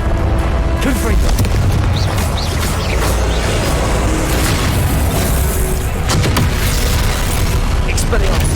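Confringo blasting spell explosions from Hogwarts Legacy, dense booming blasts and crackling bursts layered with game sound effects, loud and continuous, with a character's voice over the top.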